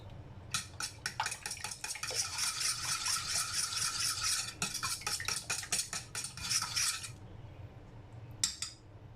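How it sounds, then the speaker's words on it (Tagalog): Bibingka batter with coconut milk whisked in a bowl: a fast, steady run of rattling, clinking strokes lasting several seconds, then stopping, followed by one brief clatter near the end. "So, haluin lang natin ng haluin po yan."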